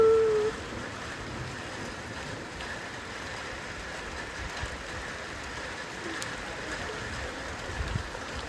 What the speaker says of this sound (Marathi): पहिला पाऊस गावच्या अंगणात बसून बघायची मजाच वेगळी आहे.